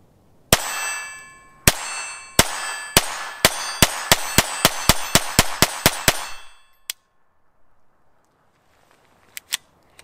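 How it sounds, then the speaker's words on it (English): A Kel-Tec P17 pistol fires Remington Golden Bullet 40 grain solids in a quick string of about fourteen loud, sharp shots that speed up. Each shot is followed by a ringing metallic clang, and a few faint clicks come after the firing stops. "We have fixed the gun and we are ready to start shooting again."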